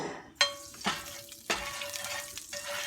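Sharp crackling sizzle as an egg hits hot oil in a pan, with several distinct sputtering bursts and clinks over a steady frying hiss, close and fairly quiet, no voices.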